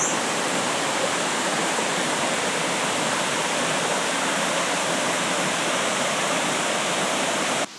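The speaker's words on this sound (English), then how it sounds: "You can still hear the water running off over there." Steady rushing roar of water running off a waterfall stream on a forest trail near Rio Agres, continuous and fairly loud, with no voices.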